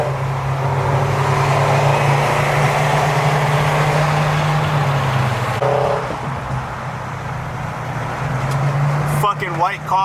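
Subaru STI engine and exhaust with a modified downpipe, heard from inside the car as a steady, bassy low drone while cruising, with a brief dip and shift midway and small clicks near the end.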